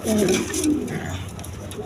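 Red-barred pigeons cooing close by, a couple of low throaty coos over a busy background, with a voice faintly present.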